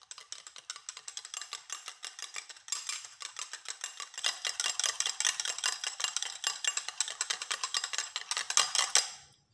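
Banana juice face mask mixture being stirred in a small bowl, giving a quiet, steady run of rapid scraping and clinking strokes that grows busier and louder after the first few seconds and continues alone to the end.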